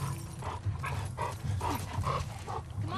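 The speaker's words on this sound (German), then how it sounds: "Oh, der Hund, der hat sie versteckt." Dog sounds from the video game The Last of Us Part II: soft panting and sniffing in a steady rhythm over a constant low game ambience, fairly quiet and close.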